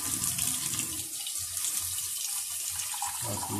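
Water pours steadily into a pot holding rice and lightly cooked onions for a spicy home-cooked rice dish, a continuous close, full gushing stream like running tap water, with no talk over it.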